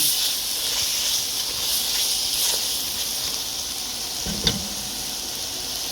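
Chicken kabsa ingredients seasoned with black pepper sizzle steadily as they are stir-fried in a pan, a continuous bright hiss with a single soft knock near the end.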